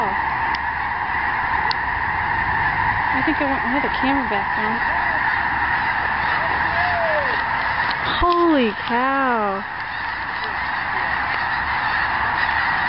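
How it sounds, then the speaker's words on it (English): Mixed flocks of snow geese and Canada geese flying over a lake in Nebraska during migration, a dense chorus of honking that rises and falls under a steady wind-like rush, with someone speaking briefly. "They're mixed. They're snow geese and Canadian geese."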